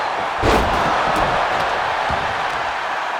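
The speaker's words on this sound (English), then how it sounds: "What's coming next? A back suplex." A back suplex slam in the wrestling video game WWE 2K25, a single heavy thud of a body hitting the mat with a broad crowd roar around it.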